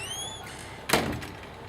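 A train carriage door shutting on a heritage railway ride, a single sharp thud midway, near and moderately loud over a steady background hiss with a faint whistle-like tone earlier.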